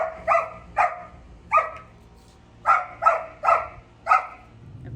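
A dog barks seven times in short, evenly spaced yaps, fairly close and clear against a quiet background.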